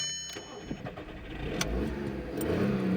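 A VW Polo engine held at raised revs, a steady mid-pitched running drone with slight rises, close by and alone without talk.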